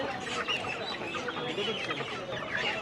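Several chickens cluck and chatter continuously nearby at a market poultry stall, a busy overlapping flock sound with no talking.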